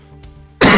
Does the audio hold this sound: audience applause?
no